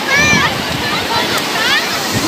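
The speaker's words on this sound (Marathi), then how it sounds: "खूप लाटा उसळल्यात" Sea waves surge at Ganpatipule beach on the Konkan coast near the Ganpati temple, with boats nearby: a steady, loud broadband wash of surf fills the whole stretch, with brief whistly tones over it.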